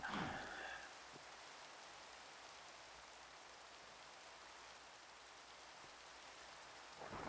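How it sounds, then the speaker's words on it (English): Rain falls in the survival game Gult's Gorge, a soft steady hiss that carries on evenly and faintly throughout, with a brief louder swell at the start. "And now it's raining."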